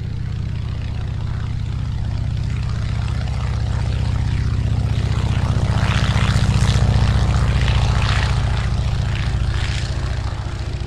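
A 1940 Boeing Stearman biplane takes off, its radial engine and propeller droning loud and steady, the roar building and brightening midway as power comes up.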